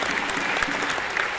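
An audience at The Feast church talk in the PICC claps their hands in dense, continuous applause, a loud, close wash of many hands.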